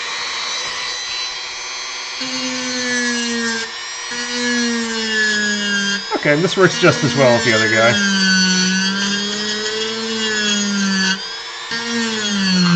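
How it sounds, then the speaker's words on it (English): A handheld Dremel rotary tool carves a wooden sphere with a high, whining buzz that rises and falls in pitch as it bites into the wood. Someone talks over the tool. "So as is usual when using a Dremel, there's going to be noise"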